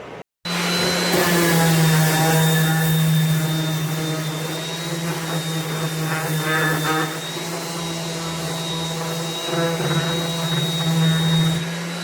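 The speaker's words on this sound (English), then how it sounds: "Now I'm going to go over to my orbital sander and sand it some more." An electric orbital sander runs on wood in a woodworking shop, a steady loud motor whine with a droning hum that holds for the whole stretch after a brief start.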